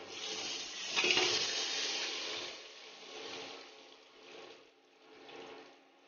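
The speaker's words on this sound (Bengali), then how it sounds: "জিরে লাল হয়ে যাওয়ার পর এতে জল দেওয়া হবে" Water is poured into a pan of fried cumin and bay leaves, giving a rushing splash that swells early and then settles into softer, uneven bubbling and gurgling, close and moderately quiet.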